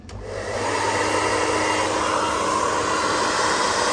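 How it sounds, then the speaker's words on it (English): A 1805-watt hairdryer powered by a solar generator whirs up and keeps running with a steady, loud, airy blowing hum. "That's the hairdryer,"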